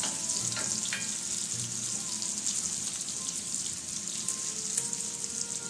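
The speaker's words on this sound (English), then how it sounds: "We're just crisping up this bacon" Bacon crisping in a pan gives a steady, close hiss of frying and sizzling with small pops, running alone without talk.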